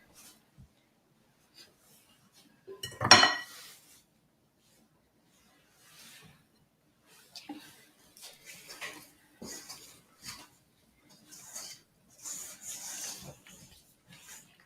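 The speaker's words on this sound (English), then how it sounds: "I'm just scraping down the sides of the bowl again, making sure I have everything in here" A spatula scrapes the sides of a mixing bowl of chocolate chip cookie dough, with one louder scrape followed by a series of short, soft scraping strokes at close range and brief pauses between them.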